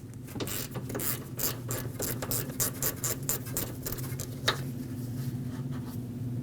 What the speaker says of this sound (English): Remove that bolt so we can pull the line off the AC condenser.